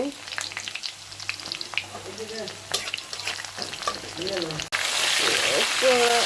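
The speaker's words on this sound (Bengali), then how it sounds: "তেল গরম হয়ে গেছে এখন তেলগুলো পেঁয়াজগুলো সব দিয়ে দিব" Onions frying in hot oil for chicken pasta, a steady crackling sizzle with stirring scrapes, then a sudden louder burst of hissing as more goes into the pan near the end.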